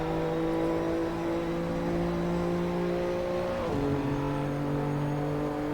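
Touring car in an M2 Cup race at Indianapolis, engine holding a steady high whine, then dropping sharply in pitch as it passes close by and crosses the line.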